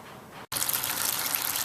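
Home-brewed porter wort gushing and splashing into a fermenter, a steady loud liquid pour after a brief pause, with no voices.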